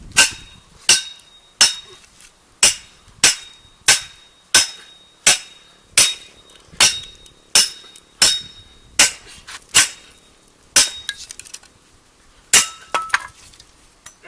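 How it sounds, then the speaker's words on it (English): Sharp metallic strikes ring out one after another at a steady pace, over a dozen close hammer blows on a machete's blade driving it into knotty wood. "Let's get a hammer."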